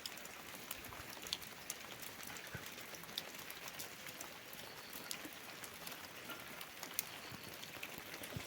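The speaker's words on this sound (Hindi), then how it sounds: "देखो यहाँ बारिश लगी हुई है और ये देखो कैसी बारिश लगी हुई है" Steady rain falls in a hillside village during the rainy season, a faint, even hiss of patter on surfaces with occasional sharper drips, and no voices.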